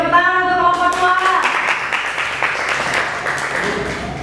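Applause in a school chemistry class for a student group: a voice at the start, then a steady wash of many hands clapping for several seconds.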